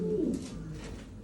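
A pigeon in a loft gives a short, low, close coo that trails off within about a second.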